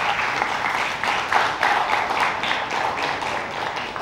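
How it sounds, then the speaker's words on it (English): An audience applauds at the close of a rewilding panel discussion, clapping close and steady for a few seconds with no talk over it. "I think we deserve a big round of applause."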